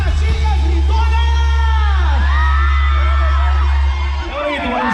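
Women in a crowd at a 2023 village fiesta in Arantepacua, Michoacán, screaming and whooping in rising, wavering cries over a loud, steady low hum of the band's sound system.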